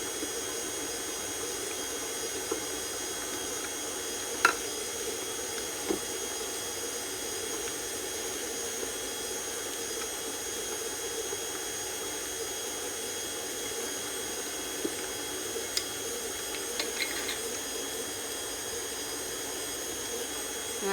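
Electric mixer whipping vanilla frosting, a steady whirring hum that runs continuously and fairly quietly with a few faint clicks.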